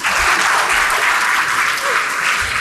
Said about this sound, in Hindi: तालियां बनते।